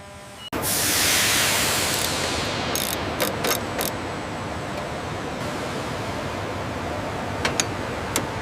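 Torque wrench working bolts during Boeing 787 aircraft assembly, with continuous ratcheting clicks and mechanical clatter after a sudden start, several sharp bursts midway and a few brief high clicks near the end, no talk.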